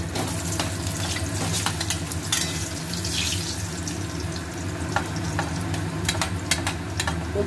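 Ginger frying in hot oil with whole spices, dried chilli and bay leaf for Bengali sukto, a steady close sizzle with scattered crackles and pops throughout, no talking.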